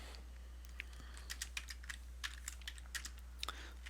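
Irregular clicks of a computer keyboard being typed on, close and fairly quiet, the keystrokes coming in short uneven runs over a steady low hum.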